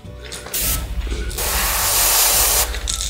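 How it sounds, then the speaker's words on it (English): An airbrush sprays paint onto a crankbait fishing lure: a steady, close hiss in bursts of about a second or more, with a brief pause and a soft mechanical click between passes. "you're gonna spray along the top half for the bait"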